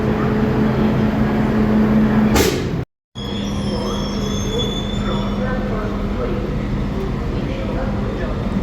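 A train rumbles past steadily with a continuous low drone and occasional high squeal, briefly cutting out before resuming at the same level.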